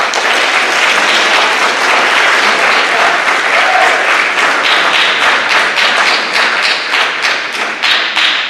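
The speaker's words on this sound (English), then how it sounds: "let's give this group of 8th graders a round of applause" A close, loud round of applause for a group of 8th graders at a high school academic awards ceremony, with a sharp patter of nearby hands and a few distinct thumps as the clapping thins toward the end.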